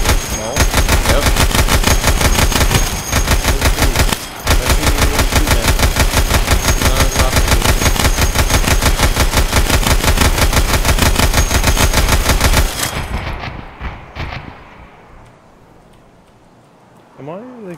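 Rapid, sustained automatic gunfire in the video game Escape from Tarkov rattles loudly and continuously for about twelve seconds, with a couple of short breaks, then stops and fades out.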